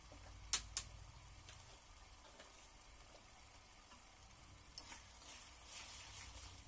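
Cabbage Manchurian sauce with turmeric being stirred and fried in a pan: a faint steady sizzle with a few sharp scrapes and clinks of the spoon, no voices.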